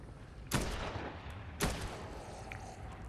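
Two separate, loud gunshots fired at zombies in Dead Island 2, about a second apart, each a sharp crack with a short tail over a low game background.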